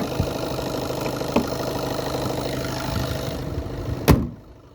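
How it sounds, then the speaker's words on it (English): A 2013 SEAT Leon 1.6 TDI common-rail diesel with 115k miles idling, a steady close-up rattling engine hum with a sharp clack near the end before it quietens. "it's idling very nicely."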